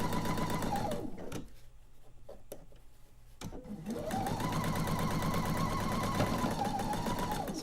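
A sewing machine stitches a mystery quilt unit up close, its steady rapid needle chatter running for about a second, pausing briefly with small clicks, then resuming in a long even stretch of motorized stitching.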